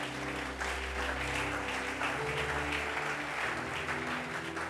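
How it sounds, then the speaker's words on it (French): A church congregation applauds and cheers for the Lord, with steady sustained clapping and voices under an ongoing hum of music or sound-system tone. "Est-ce qu'on peut acclamer le Seigneur?"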